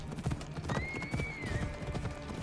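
Hooves clip-clop in a quick galloping rhythm as a horse runs in Assassin's Creed Odyssey, close and steady, with a high whinny-like tone rising over the middle.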